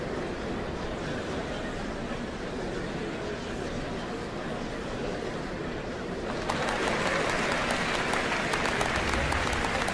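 A large crowd cheers and applauds in a Final Fantasy XIV cutscene, a dense continuous roar that swells louder partway through and holds steady, with faint voices mixed in.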